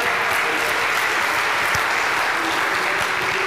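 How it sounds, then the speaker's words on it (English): A church congregation applauds during a traditional Sunday service in a sanctuary, with steady, dense clapping filling the room without a break. "it's good that you all clap for her"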